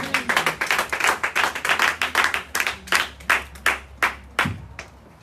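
A congregation at a church service claps in steady, rhythmic unison to acclaim the Lord, a long run of sharp, loud hand claps with a brief low voice near the end.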